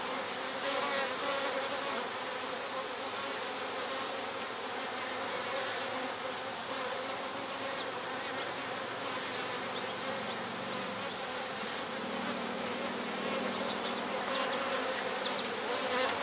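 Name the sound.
honey bees buzzing at an open hive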